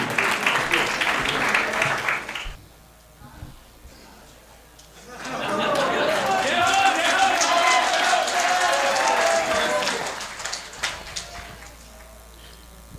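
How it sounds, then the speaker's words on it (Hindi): An audience at a Hindi comedy poetry gathering breaks into loud clapping, a short burst first, then after a quiet pause a longer, fuller round of applause lasting several seconds before tapering off. "इसलिए आप अपने सम्मान में जोरदार तालियां बजाइए।"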